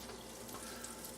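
Butter sizzling quietly in a hot stainless steel pan, a soft, even crackle for a brief moment.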